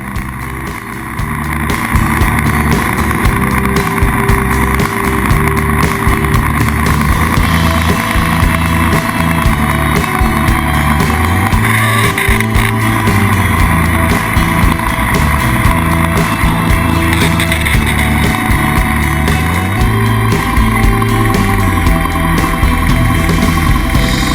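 A Kawasaki KLR650 dual-sport motorcycle rides on a gravel road, its engine drone steady and loud throughout with constant wind and road rumble, and no voices.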